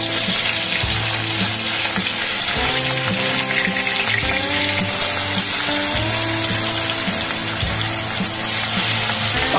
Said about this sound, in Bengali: আগে মাছগুলো ভাজতে দিয়ে দিই, আর মাছটা আগে ভাজতে দিই।